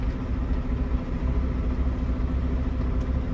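A heavy truck with an Eaton Fuller 10-speed manual transmission crawls along in second gear, its engine a steady, loud low rumble that holds even throughout without breaks.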